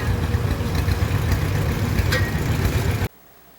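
Several tractors idle together in a parade in Farming Simulator 22, a steady, loud, low engine rumble that runs on continuously and then cuts off abruptly near the end.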